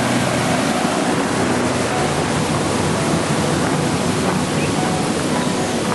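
A loud, continuous rush of groundwater pumped from a stone quarry pouring into the Wabash and Erie Canal in Delphi, Indiana, steady and close, like a heavy outflow crashing into a channel.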